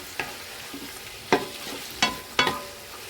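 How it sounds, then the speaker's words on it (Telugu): Tomato, ginger-garlic paste, green chillies and onions frying in a pan for chicken biryani, a soft steady sizzle broken by a few sharp scraping stirs of a spatula, no talking. "మరి ఇవన్నీ కూడా మరొకసారి బాగా వేగేంత వరకు"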